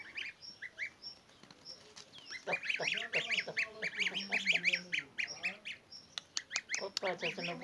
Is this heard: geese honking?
yes